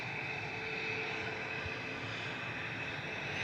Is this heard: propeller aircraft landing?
yes